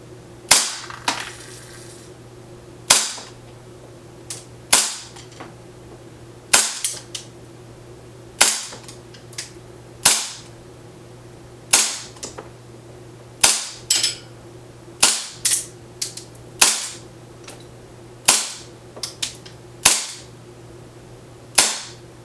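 A WE-Tech Hi-Capa 5.1 airsoft gas pistol running on propane with 0.2 g BBs fires about fifteen sharp, loud cracks at uneven intervals, some in quick pairs, over a steady low hum and no talk.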